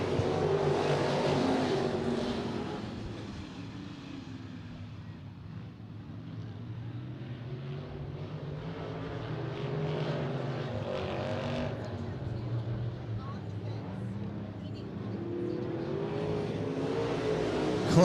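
Race cars accelerate on a restart at a night racetrack, coming out of turn four. A broad, sustained engine roar from the pack swells and holds, heard from a distance with some wind noise.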